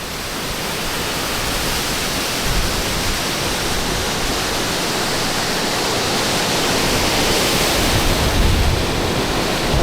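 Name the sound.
strong flow of water like a river at the Olympic Stadium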